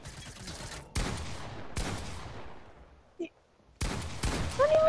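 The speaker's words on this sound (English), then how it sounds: "He's shooting down at you." Fortnite gunfire, several sharp loud shots spaced apart with decaying tails between them, one faint blip in a quiet gap, and a final burst at the end.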